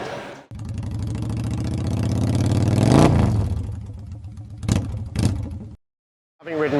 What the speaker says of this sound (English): Someone's just doing a burnout on one of the Trophy GS's next to me, just putting some rubber down on here.